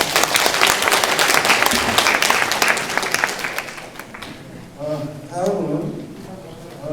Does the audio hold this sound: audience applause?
yes